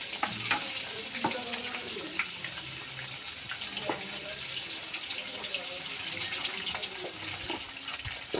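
Eggs frying in oil with continuous sizzling, occasional stirring clinks and scrapes, and some water running in the background, moderately close.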